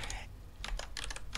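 Rapid computer keyboard keystrokes entering a login ID and password, a few quick bursts of clicking taps close by with short pauses between them, no talking.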